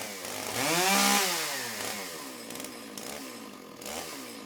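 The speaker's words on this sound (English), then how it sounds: "It's a chainsaw." Loud, close sampled chainsaw from an orchestral sound library revving to a peak, then dropping back to a rough idle with a couple of smaller throttle bursts, no voices.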